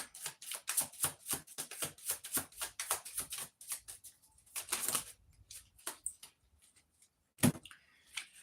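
Tarot cards shuffled and drawn from a deck, a rapid run of crisp riffling flutters and slaps for several seconds, then a few separate, sparser card snaps and one sharp tap near the end.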